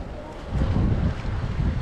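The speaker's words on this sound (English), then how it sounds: "It's really windy too." Strong wind on a trail while cycling, buffeting the microphone in a loud, rumbling gust that builds partway through and stays steady, with no voices.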